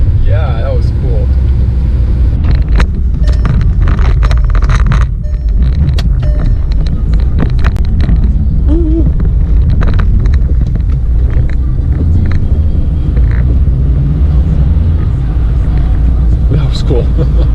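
A car drifts along a snowy road in sport mode, its engine rumble and tyre noise loud and close with wind buffeting the microphone, while someone talks excitedly throughout.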